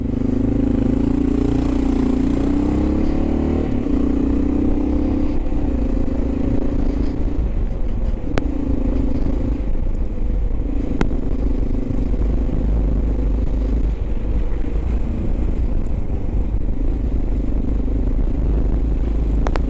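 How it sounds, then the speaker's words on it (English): A Honda XR650L trail bike riding on rough New York city streets, its single-cylinder engine droning and revving low and loud throughout with wind rush and occasional clatter, no talk. "you wouldn't think a trail bike would be good in New York"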